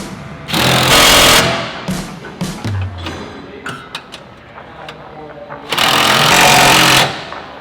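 An impact wrench tightens bolts on a Toyota Tacoma bump stop install, with two loud sustained bursts at the start and end. Between them come clanks, taps and brief talk.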